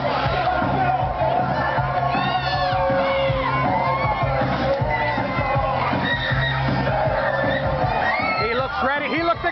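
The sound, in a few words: wrestling crowd cheering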